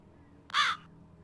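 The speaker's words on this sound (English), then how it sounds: "There's a lot of birds there." A single loud crow caw from a video game rings out clearly for a fraction of a second against a quiet low ambient background.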